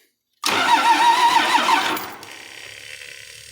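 A Cummins diesel engine that has sat for about three and a half years cranks hard and loud with a rough, rhythmic starter drone for roughly a second and a half, then drops to a quieter, steady running hum.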